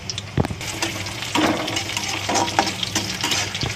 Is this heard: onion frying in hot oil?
yes